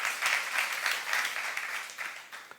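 Audience applause fills a church during a youth-service sermon, a dense, steady wash of many hands clapping at close range that swells and eases slightly without a break.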